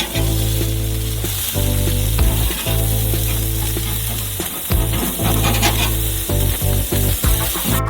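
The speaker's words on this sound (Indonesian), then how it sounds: "Goreng sedikit lagi dan keluarkan." Beef slices for burgers fry in a hot pan with a loud, steady sizzle and crackle, interrupted by occasional scraping stirs, with no talking.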